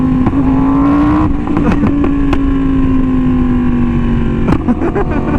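A Yamaha R1M sport motorcycle fitted with an SC Project exhaust, ridden on open country roads, holds a loud steady engine drone with small throttle changes, then a sharp blip and shift near the end.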